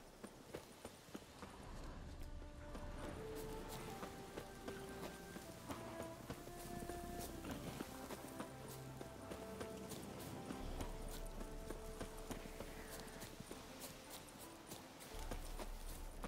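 Horse hooves clip-clopping in The Witcher 3: Hearts of Stone, a steady walking rhythm of close hoof strikes over low game ambience and music, continuing throughout.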